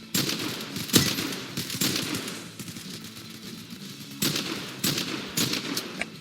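Rapid bursts of weapon fire in the shooter game Hypershot, loud repeated volleys with short pauses, a longer lull in the middle before firing resumes; no talk.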